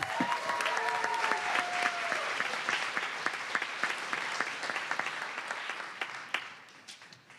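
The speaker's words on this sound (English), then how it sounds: "Let's give another round of applause for Councilmember Foster." A room at a city council meeting breaks into steady, dense applause for a councilmember, sustained clapping from many hands that thins and fades toward the end.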